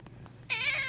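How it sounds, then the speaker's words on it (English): A domestic cat lets out a drawn-out, harsh meow, close and fairly quiet after a couple of faint sounds in a quiet room. "This might very well be the epitome of foul cat language."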